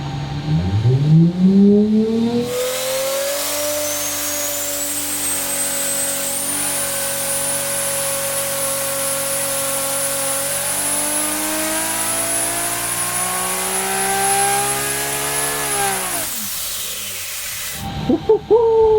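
A built 2JZ Toyota Supra making about 1009 horsepower on 30 psi of boost revs hard through a full dyno pull, its loud engine tone climbing steadily for about twelve seconds before it lets off.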